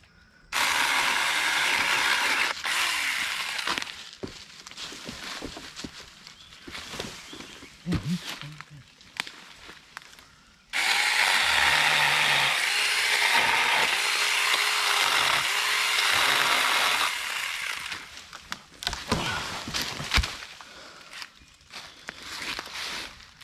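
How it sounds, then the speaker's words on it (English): Small chainsaw cutting through a thick, tangled tree branch while clearing brush, its loud engine whine running in long sustained bursts with a brief drop between cuts and throttle dips near the end. "Now the little saw actually did pretty good on this thicker branch"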